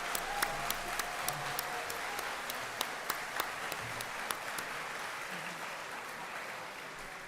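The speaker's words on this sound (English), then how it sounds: "let's have a big round of applause for all the speakers and volunteers" Audience applause at the Launch Canada 2026 conference, a fairly faint, steady patter of clapping from a distant crowd, with a few sharper individual claps standing out, lasting throughout with no talk.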